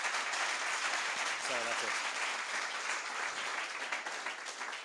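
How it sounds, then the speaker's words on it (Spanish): Audience applause for the panel speakers at a round-table event on investment and M&A trends, a thick continuous wash of clapping throughout, with a brief spoken thank-you heard over it. "voy a pedir un fuerte aplauso para nuestros ponentes"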